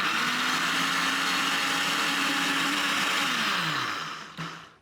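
A kitchen blender whirs steadily as it purees chard and coriander with water, a loud, even motor drone that winds down and stops near the end.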